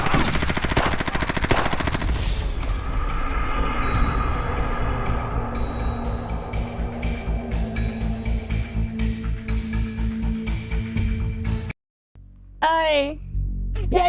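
Rapid video game gunfire rattles loudly and continuously for about twelve seconds, dense bursts with a rail-like clatter underneath, then cuts to a brief silence before a short electronic warble at the end.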